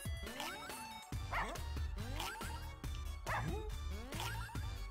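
Dog in a Russian subway video game yipping and barking in a rapid repeated series of short, bright, whimpering barks, close and fairly loud, with brief pauses between bursts.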